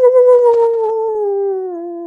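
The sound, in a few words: person imitating a dog barking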